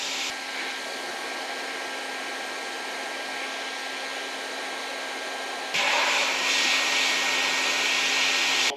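A hot-air plastic welding gun running at 350 degrees on ABS while repairing an old camper van, giving a steady, close, loud blowing whoosh throughout that jumps noticeably louder and brighter partway through, with no talking.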